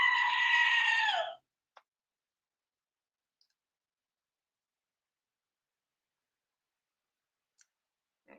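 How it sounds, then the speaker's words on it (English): A screaming goat sound effect: one loud, harsh, wavering bleat lasting just over a second, then near silence broken only by a few faint clicks. "So we're going to be having a lot of screaming goats."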